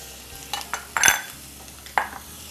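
Chopped garlic sautéing in a pan with vegetables for a warm salad, a faint sizzle with a few brief scrapes and taps of a utensil stirring.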